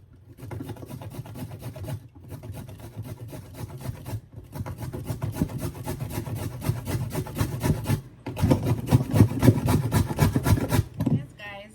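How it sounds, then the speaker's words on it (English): A potato is grated by hand, with steady rhythmic rasping strokes in bursts broken by short pauses, close up and fairly loud. "I'm grating the potato."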